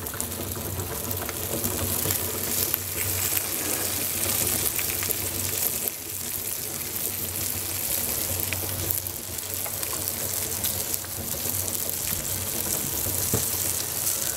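Breakfast frying in a pan on a 15-year-old Cadac camping gas stove at a forest campsite, a close, continuous crackling sizzle with a steady hissing bed throughout and no talk.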